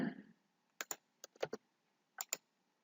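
Close, quiet computer keyboard typing in short clusters of crisp key clicks separated by brief pauses, with a faint click to press a find button, alone.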